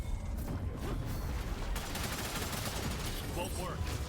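Gunfire rattles through a match of the video game Supervive in rapid, dense bursts, moderately quiet, with talk over it.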